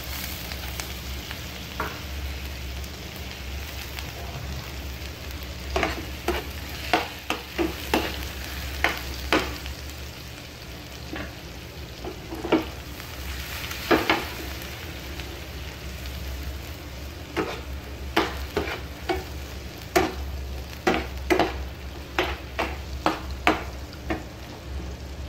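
Garlic fries softly in melted butter in a pan for butter garlic shrimp, with a quiet steady sizzle broken by intermittent scraping and stirring clicks of a utensil.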